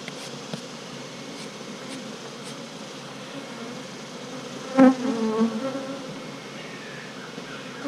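Honey bee colony buzzing steadily during a hive inspection, a dense continuous hum close by, with a brief louder knock or handling noise partway through.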